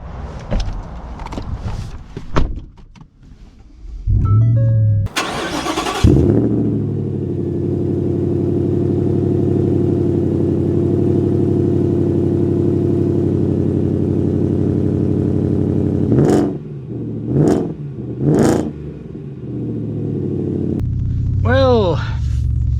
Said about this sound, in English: I'll take it out for a quick drive and see how it performs with the modifications